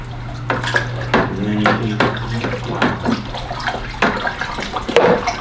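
A wooden spoon stirs Cultured Biologix powder into about three gallons of water, giving close splashing and sloshing with irregular knocks against the container, while a voice talks faintly underneath.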